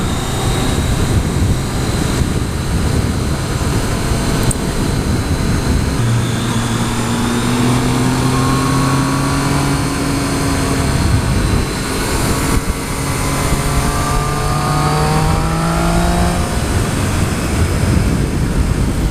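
2014 Triumph Street Triple R motorcycle accelerating, engine note climbing in repeated rising sweeps through the gears under heavy wind rush, loud and close, with no talking.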